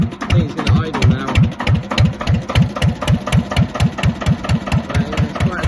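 A 1970s Johnsons dumper's mechanical engine idles unevenly on a cold day, a loud close chugging with a steady rapid beat of knocking firing pulses throughout.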